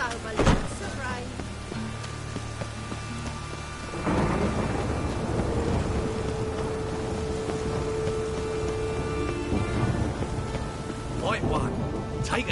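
A rainstorm in The Witcher 3: a sharp nearby thunderclap near the start, then a second heavy rumble that rolls into steady, loud rain pouring on for the rest.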